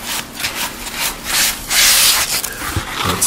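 A rag rubs grit glaze across the profiled edge of a golden oak cabinet door in loud, close, scrubbing strokes that swell and fade in a quick back-and-forth rhythm, with no voices.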